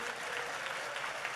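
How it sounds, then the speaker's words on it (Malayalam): A large convention congregation claps hands in a brief, dense burst of steady applause heard at a distance. "നന്നായിട്ട് കൈയടിച്ച്"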